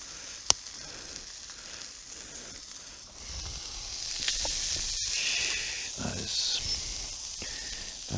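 A burger patty frying in a pan, a continuous bright sizzle that swells and grows louder partway through, with a sharp click near the start and faint background noise.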